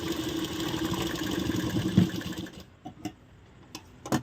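A sewing machine runs close up, stitching the neckline of a blouse with a steady mechanical whir, then stops, leaving a few clicks and taps.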